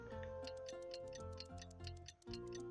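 Clock ticking in the video game Carmen Dei, a steady tick-tock beneath layered game music with sustained tones and bright chimes.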